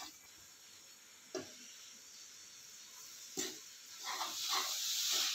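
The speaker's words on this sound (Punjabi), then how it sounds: "ਤੜਕਾ ਲਾਈ ਜਾਂਦੀ" Tempering spices sizzle in a hot pan in a home kitchen, a steady soft hiss with two sharp crackling bursts and a louder frying surge toward the end.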